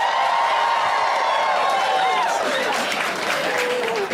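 At a stand-up comedy show, a crowd erupts into loud, sustained cheering and applause, with whoops and shouts rising over the dense clapping throughout.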